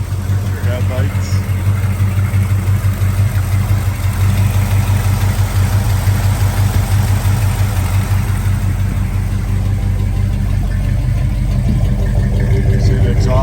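A 1971 GMC 1500 pickup with an Edelbrock carburetor idles steadily and loud for the whole stretch, a deep even rumble with someone talking over it.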